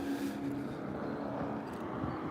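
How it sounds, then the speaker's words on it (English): A passing vehicle engine heard from the street beside a building, a steady low hum and rumble that swells slightly and holds at moderate loudness. "There's the engine sound after I walk by the corner of this building."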